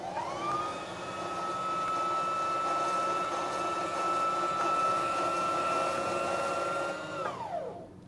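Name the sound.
sewing machine winding the bobbin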